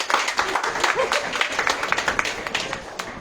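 Applause at a gospel youth program, honoring a young man who prays: a dense wash of clapping from a crowd, steady throughout with sharp individual claps, moderately loud with some voices mixed in.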